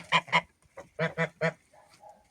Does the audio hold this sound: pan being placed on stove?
no